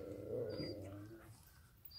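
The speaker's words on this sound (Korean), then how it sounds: "저거 으르렁 되는데?" Small puppies fighting over food give a low, rumbling growl near the mic, sustained for about a second before fading, with a faint high whine in the background.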